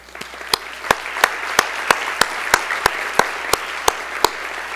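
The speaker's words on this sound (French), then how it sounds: "ils méritent une bonne main d'applaudissements" Applause at a world congress of administration opening ceremony on a university campus, crowd clapping with a prominent, rhythmic single clapper in steady beats over the wash of hands.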